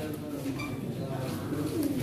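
Pigeons coo at a pigeon auction, low soft throaty calls repeating through the clip amid a busy indoor murmur of people talking.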